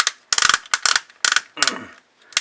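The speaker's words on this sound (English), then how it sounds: "I love that ratchet joint." Ratchet joint on a Voltron Legendary Defender Red Lion toy being worked, giving several bursts of close, crisp plastic clicking separated by short pauses, with no talk.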